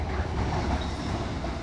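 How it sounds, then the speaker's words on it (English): Train passing nearby, a dense continuous rumble with faint wheel clatter, steady and fairly loud with no talk. "It's a train passing, so"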